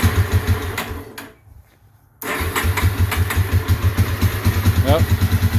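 A Yamaha Warrior 350 ATV engine turns over, briefly cuts out, then catches and settles into a steady, loud, close idle with rhythmic pulsing and a throttle blip near the end, with a voice heard over it.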